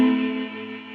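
An electric guitar chord rings out through a JD Pedals Sunday Drive pedal's reverb with a tremolo tail, a sustained bright tone that wavers gently and slowly fades over about a second, with no talk.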